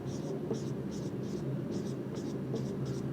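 Chalk or marker strokes on a board during a class 11 physics lecture on vectors: quick rhythmic scratchy bursts in small clusters, close and clear, over a low steady room hum with a voice talking faintly underneath.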